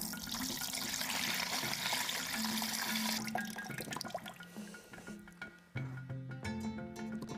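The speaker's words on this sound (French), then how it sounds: "Je verse simplement la solution de riz dans un autre seau." Rice water solution poured from one bucket into another makes a continuous, close splashing gush that thins into trickles and drips as the stream tapers off, heard alone without talk.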